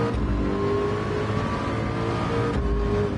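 A race car engine roars steadily and loudly in a VR Le Mans 24-hour racing game, droning at a held pitch with a brief shift near the end, alone without talk.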